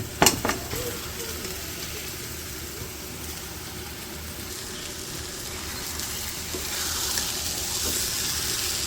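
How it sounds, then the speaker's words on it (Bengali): Meat and potatoes hit a pan of hot spice masala with a brief clatter, then a steady close sizzle that swells slightly toward the end. "মাংস আর আলুগুলো একসাথে দিয়ে দিই এখন"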